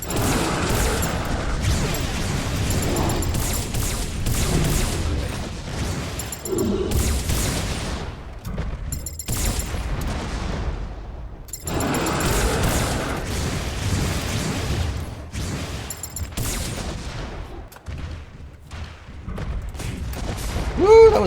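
Rapid bursts of gunfire and crashing impacts during a boss battle in the video game M.A.S.S. Builder, loud volleys broken by brief gaps, with some voice now and then.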